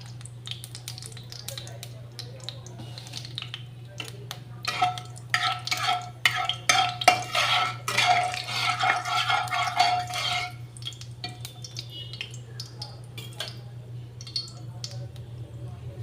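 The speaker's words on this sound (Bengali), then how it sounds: "এবার আমি একটু কালো জিরে ফোড়ন দেব, তো কালো জিরে দিয়ে দিলাম।" Nigella seeds temper in hot oil in a wok, bursting into a crackling, spluttering sizzle midway over a steady low hum, then settling back to a quieter fizz.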